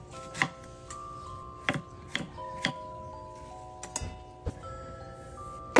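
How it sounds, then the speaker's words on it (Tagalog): Several sharp knife chops through lemon, apple and cucumber on a cutting board, spaced irregularly, close and crisp against a quiet background. "Hiniwa-hiwa ko lang to ng maliliit para magkasya sa juicer natin"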